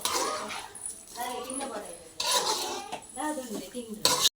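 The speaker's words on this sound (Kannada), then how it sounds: "ಇವಾಗ ಚೆನ್ನಾಗಿ ಒಂದು ಮಿಕ್ಸ್ ಮಾಡಬೇಕು" Metal utensils scrape and clink against a pan in bursts as fried chicken is stirred into sauce, with a person talking over the clatter.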